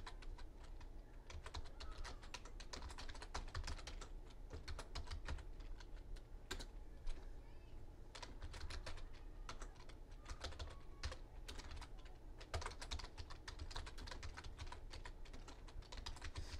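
Steady typing on a computer keyboard while filling in mail merge address entries, a continuous quiet patter of rapid key clicks with occasional sharper keystrokes and no talk.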